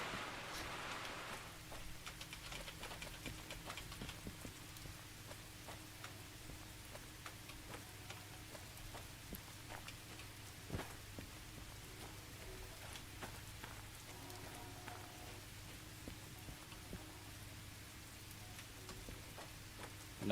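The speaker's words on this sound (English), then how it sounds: "Because it's raining and dark?" Steady rain in a video game, Derail Valley, patters on a surface in a quiet, even wash, with scattered light ticking drops throughout and no voices.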